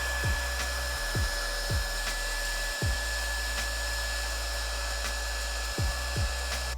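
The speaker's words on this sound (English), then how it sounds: "grab a heat gun, apply some heat to the plastics" A heat gun blows steadily on dirt bike plastics, a constant loud airy roar with a faint high whine, broken by a few short low thumps and knocks.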